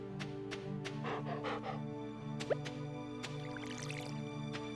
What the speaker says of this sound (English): Do I actually have to water the dog's bowl?